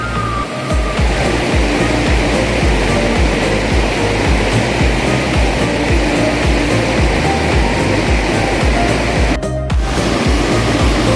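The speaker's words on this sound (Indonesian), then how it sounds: "Nyuci piring di pinggir sungai." Loud, steady rushing of a river fills the clip, with faint clinks and scrapes of dishes being washed on the riverbank nearby at a riverside campsite.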